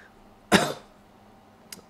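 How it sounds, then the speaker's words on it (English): A single sharp cough close to the microphone, followed by a faint short throat sound a moment later. "Sorry guys, I've had this cough."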